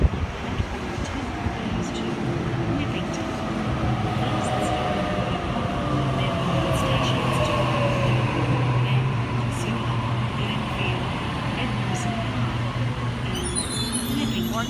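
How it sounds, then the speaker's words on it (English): A Sydney Waratah train, set A46, pulls away from Guildford station on a Leppington service with a steady close rumble and a rising electric motor whine that sweeps upward over several seconds, continuing unbroken. "Waratah set A46 now departing Leppington service."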